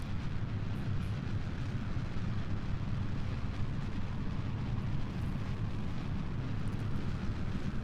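Steady, dense rocket engine roar from a Kerbal Space Program spacecraft, a continuous loud rumble with deep low end and no breaks, heard alone.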